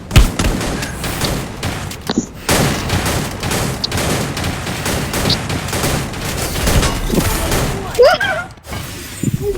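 Rapid gunfire in a video game, repeated sharp shots and bursts in quick succession with a few crashes, mixed with game effects and people talking over it.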